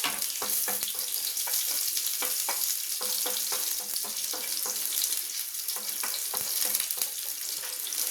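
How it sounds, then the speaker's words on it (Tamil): Crushed garlic with its skin on frying in hot oil for a spicy brinjal fry, a constant bright sizzle broken by repeated spoon stirs and taps against the pan, no talking. "பூண்டு அந்த எண்ணெயில் நல்லா வதங்கிக்கட்டும்"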